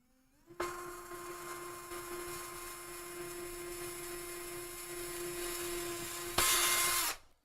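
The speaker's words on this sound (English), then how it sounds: "No, I have cling film wrapped around my drill bit." A power drill with cling film wrapped around its bit whirs at a steady high pitch for several seconds, close and loud, then rises to a harsher burst before cutting off.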